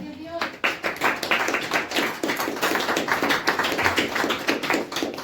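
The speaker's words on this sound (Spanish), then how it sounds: "¿Tengo una ofrenda de palmas al Señor?" A church congregation claps hands in praise during a sermon, a steady rapid patter of many hands at close range, loud and sustained, with a brief voice at the start.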